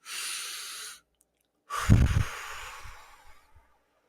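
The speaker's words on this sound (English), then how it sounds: "So if you can just extend your exhale for like 8 seconds." Slow, drawn-out breathing: an airy breath is followed after a short pause by a longer, gradually fading exhale. Both are close and fairly soft, with no voices.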